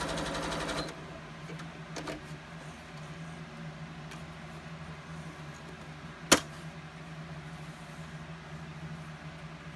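A sewing machine with a thread tension problem runs a test line of stitching on fabric. A louder burst at the start gives way to a faint, steady motor hum, with one sharp click partway through.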